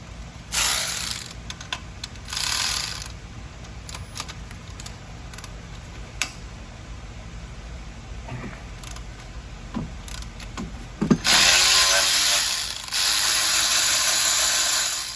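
A ratchet wrench works on a fastener in quick bursts of clicking and whirring, short loud spells broken by quieter gaps with scattered metallic ticks and clanks, close by with no talk.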